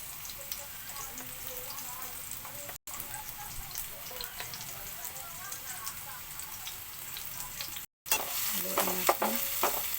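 Garlic fries in a pan for bitter melon with glass noodles, giving a continuous crackling sizzle and stirring scrapes that grow louder near the end, while a person talks over it.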